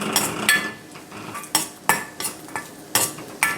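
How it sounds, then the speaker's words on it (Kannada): Cashews roasting in half a teaspoon of ghee in a pan, dominated by a spoon clinking and scraping against the metal in a quick irregular rhythm, with a faint sizzle beneath and no voices. "ಒಂದು ಅರ್ಧ ಟೀ ಸ್ಪೂನ್ ತುಪ್ಪ ಹಾಕಿ ಅದು ಬಿಸಿ ಆದಮೇಲೆ ಫಸ್ಟ್ ಗೋಡಂಬಿ ಹಾಕಿಬಿಡಿ"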